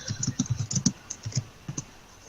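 Rapid, irregular clacking of keys on a computer keyboard, close and moderately loud, with a brief pause near the end and no speech.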